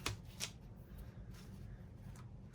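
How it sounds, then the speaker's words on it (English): Scissors cutting through paper or card while junk journal pages are trimmed at a craft table, giving a couple of short crisp snips near the start followed by soft rustling and handling noise. "I'm going to just cut this off."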